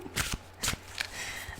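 Tarot cards being shuffled by hand in a few quick riffling bursts, close and fairly quiet, with no talk over them.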